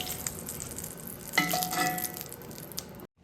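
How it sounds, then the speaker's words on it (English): Celery, carrots and onions hit a hot pan and sauté, a steady close sizzle with a sharper burst as they go in, then stirring before the sound cuts off abruptly. "now I'm adding the rest of the vegetables, the celery, carrots, and onions"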